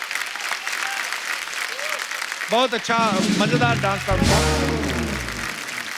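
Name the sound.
studio audience applause on comedy show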